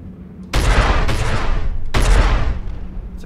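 A big gun fires in Star Citizen, two heavy, booming shots about a second and a half apart, each loud and close with a long rumbling decay, and no talking.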